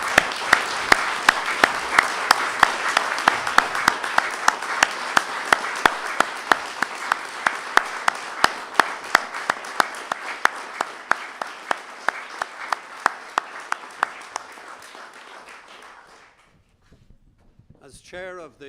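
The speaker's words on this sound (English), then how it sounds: "Would you stand and applaud their determination?" Standing audience applause at a public event hosted by the John and Pat Hume Foundation, loud sustained clapping with scattered sharper claps that gradually thins and fades out over about sixteen seconds, followed by near silence.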